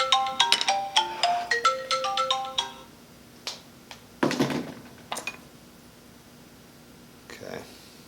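A mobile phone ringtone plays a quick run of bright melodic tones for a few seconds near the mic, followed by scattered knocks and handling noises during work on a fairy house.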